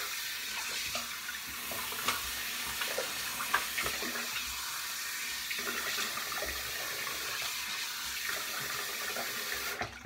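Tap water runs steadily into a sink to wet the face before a shave, a constant close splashing rush that fills the whole stretch with a few small knocks.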